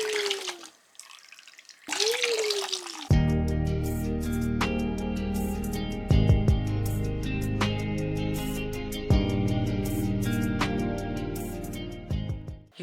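A tap runs steadily while a young boy's hair is washed, a close, continuous stream of water with a few clunks and splashes, and a short voice near the start.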